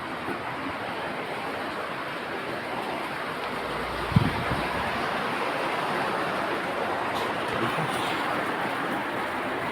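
Floodwater from Typhoon Enteng rushes into a house, a steady broad roar of water and storm noise throughout, with one brief knock partway and no voices.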